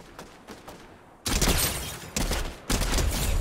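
Gunfire in Fortnite: quieter rattling shots give way to loud, close bursts of rapid fire in three heavy volleys, with no talking.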